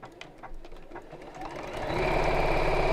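A sewing machine stitches down a fabric seam, starting with a few slow, separate needle strokes, then speeding up into a steady, fast mechanical whir that holds to the end.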